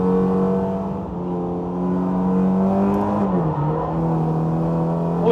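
Super GT race car at speed on a test track, running on an overheated, sliding tyre: a loud, sustained engine drone that holds steady, dips briefly in pitch near the middle, then climbs again.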